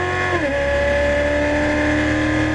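An exotic race car on a track holds a steady, loud engine note that drops in pitch after an upshift and then climbs again under throttle, sustained and close for the whole stretch.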